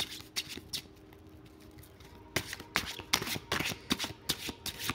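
Tarot cards being shuffled up close, a series of crisp rapid riffling bursts and flicks in uneven rhythm, fairly loud against a quiet room with no talking.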